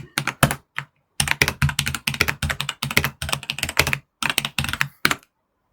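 Quick bursts of typing on a computer keyboard while entering text in a terminal editor, close and crisp, in rapid clusters with brief pauses between groups of keystrokes.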